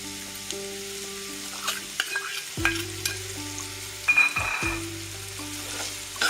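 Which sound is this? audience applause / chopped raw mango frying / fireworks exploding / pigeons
chopped raw mango frying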